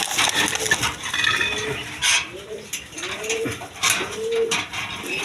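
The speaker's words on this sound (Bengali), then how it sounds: "একটা রাসগোল্লা মাদি কবুতর" A female Rasgolla pigeon coos softly in a regular rhythm, four or five low rising-and-falling calls close by, amid scattered rustling and clicks.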